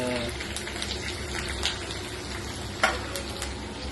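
Curry leaves and spices sizzle steadily in hot oil as a continuous frying hiss, with a couple of brief sharp pops and faint stirring scrapes, no talking.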